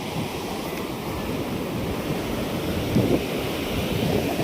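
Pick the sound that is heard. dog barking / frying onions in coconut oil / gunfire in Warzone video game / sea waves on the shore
sea waves on the shore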